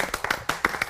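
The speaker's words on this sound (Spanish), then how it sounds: "Un aplauso para los héroes de Bata Blanca." A few people clapping for health workers at a nursing assistants' celebration, sparse individual hand claps close by in a short, uneven rhythm.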